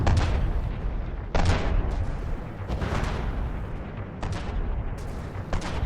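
Heavy shell blasts from the Itztli landship in a video game, several big booming explosions with broad rumbling tails at irregular intervals, loud and close with no talking.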